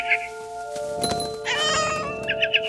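A cat meows and caterwauls in the video game What Remains of Edith Finch, a few drawn-out cries over a quiet ambient game soundscape with no talking.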